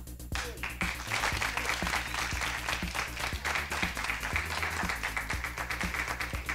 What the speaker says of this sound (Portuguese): palmas pra Aline aí